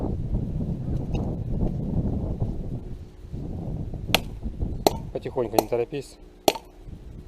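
A person speaks briefly, then a sledgehammer strikes metal wedges in stone, a few heavy blows ringing out unevenly, several sharp clanks with ringing tails.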